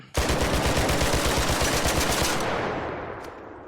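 The Rattler gun in the video game Arc Raiders fires a loud, rapid automatic burst of evenly spaced shots for about two seconds, then stops and leaves a fading echo tail.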